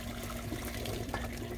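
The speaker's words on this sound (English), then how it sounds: "So it's time to drain the noodles. I use them in my strainer here in the sink." Cooked macaroni noodles are poured from a pot into a strainer in a sink, a brief steady gush of water splashing at moderate distance, with no talking.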